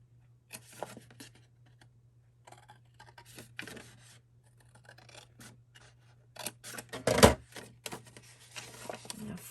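Scissors snip through paper while a trifold summer folio is being made: scattered crisp cutting strokes, then a louder, sharper burst of cuts near the end, all close up over a steady low hum.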